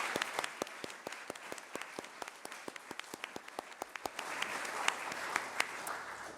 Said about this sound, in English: Let's have one last round of applause for everybody.